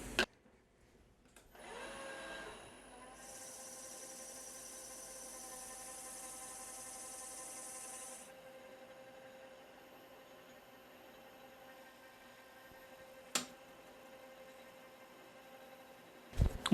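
PVC workpiece being machined on a lathe with a face grooving tool, a steady whirring spindle hum with a hissing cutting band for several seconds, then settling to a quieter machine drone, with a sharp click near the end.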